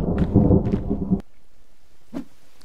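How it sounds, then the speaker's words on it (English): Heavy rain and a rumble of thunder in the video game The Forest, a loud dense downpour that cuts off abruptly, followed by quiet with a faint later rumble. "That's more like rain."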